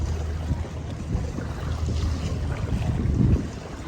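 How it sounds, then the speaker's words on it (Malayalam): A passenger boat moves over open water near Phuket, Thailand, with steady engine rumble, wind buffeting and water wash running continuously at close range. "Passenger boat."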